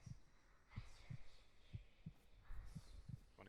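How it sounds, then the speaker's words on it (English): A slow, regular heartbeat in a video game thumps about eight times, each beat a soft, low double pulse that stays steady and fairly quiet over a faint hum. "he's got a heartbeat still"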